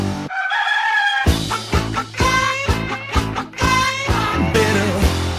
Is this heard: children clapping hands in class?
no